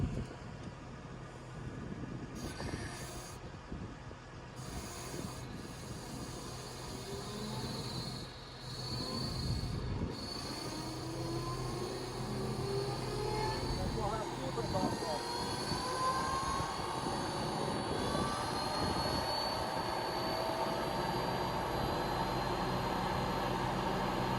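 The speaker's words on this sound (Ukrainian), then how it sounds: "Включаємо гідростанцію." The hydraulic power unit of a new seeder starts and runs with a rising, steady mechanical whine and broadband hum that builds and then holds. Voices talk nearby in the background.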